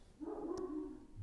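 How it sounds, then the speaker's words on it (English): A dog gives a single short bark or yelp, close and moderately loud, lasting about a second and heard on its own. "That's my dog."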